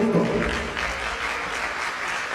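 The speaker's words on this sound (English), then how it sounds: "This is the round of applause, please, for our celebrants." A crowd at a college lecture event in Nigeria applauds the celebrants with a dense, steady clapping that fills the hall and slowly fades, with faint voices mixed in.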